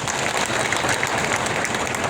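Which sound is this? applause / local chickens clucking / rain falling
applause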